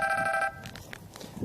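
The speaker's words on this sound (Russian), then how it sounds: "По поводу трактора вам сейчас звонят." A telephone rings loudly for about half a second as a steady electronic tone, then cuts off, leaving quiet background rustle.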